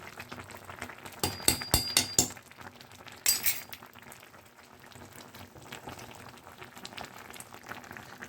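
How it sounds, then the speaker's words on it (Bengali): A jujube pickle mixture boils in a pot, a soft, low, steady bubbling interrupted early by several sharp clinks of a utensil against the pot, with no one speaking. "আমার 15 মিনিট হয়ে গেল, এটা ফুটছে।"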